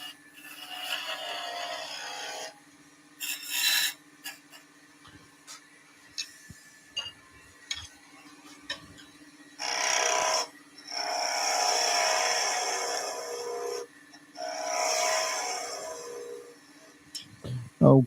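Bursts of scraping and cutting noise from a small beading and parting tool on spinning wood on a lathe come and go in several short passes, over a steady low motor hum.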